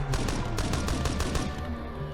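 Bike-mounted guns in the game Divided Skies fire rapid projectile rounds, a quick evenly spaced rattle of sharp shots over a steady background hum, heard alone without talk.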